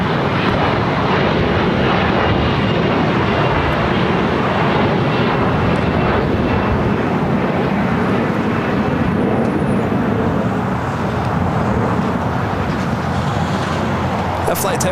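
A United Express SkyWest jet bound for Austin, Texas, roars steadily through its takeoff at LAX, a loud, broad, unbroken engine rumble held for the whole stretch, with faint voices beneath it.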